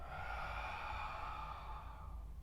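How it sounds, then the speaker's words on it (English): A long, soft exhalation during a qigong session, a breathy sigh-like outbreath heard close and fairly quiet, sustained for a couple of seconds and gently fading. "Breathing out."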